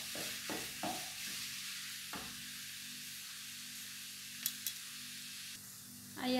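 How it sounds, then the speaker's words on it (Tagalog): Minced beef sautéing in a pan with onion and garlic, a soft, even hiss with a few scrapes and knocks from stirring near the start. "nagisa na natin ng maayos ang ating minced beef"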